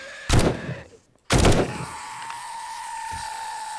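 Gunfire in the survival video game 7 Days to Die: two loud, sharp shots about a second apart, each ringing out briefly, followed by a quieter steady game tone.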